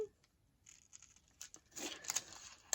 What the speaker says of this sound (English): just cutting it out with my scissors